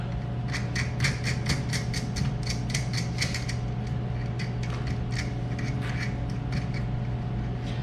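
A washer and nut being fitted by hand onto a lounge chair, heard as a series of quick, close metallic clicks and scrapes in uneven bursts over a constant low hum.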